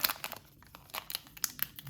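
Foil wrappers from 2020 Panini Contenders Football hobby packs crinkle and tear in quick, uneven bursts as they are opened by hand close up, with no talking.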